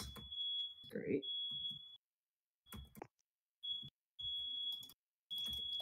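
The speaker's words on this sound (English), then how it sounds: "Who's fire alarm?" Smoke or fire alarm beeping in a repeated high steady tone, sounding in several bursts with short gaps between them, while people talk and other voices come through over it.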